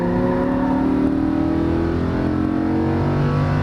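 Lamborghini Huracan LP610-4 engine revving hard under throttle through a tight track course, a loud, close, continuous roar whose pitch climbs steadily as the car accelerates.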